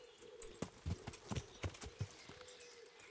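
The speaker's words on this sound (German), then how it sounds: "Reiten, steigen jetzt aufs Pferd und..." Hoofbeats of a ridden horse in Kingdom Come: Deliverance form a close, rhythmic series of thuds over a low ambient drone.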